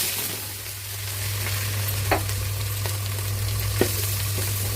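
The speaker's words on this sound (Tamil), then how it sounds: "உருளைக்கிழங்கு ஃப்ரை ஆகிறாங்க." Potatoes frying in a pan for a South Indian side dish, a steady close sizzle with a low hum beneath and a couple of brief stirring scrapes, no talking.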